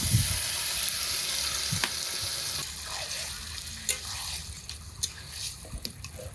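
Marinated mutton frying in a wok: a steady close sizzle with wet crackle, plus occasional clinks and stirring knocks, and no talk.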